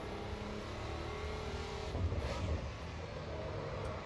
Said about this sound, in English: Oh, nice mechanical feel from the engine, and you can listen also to turbocharger.